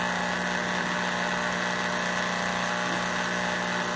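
A tanquinho twin-tub washing machine motor running, a steady loud droning hum with constant vibration throughout and no talking.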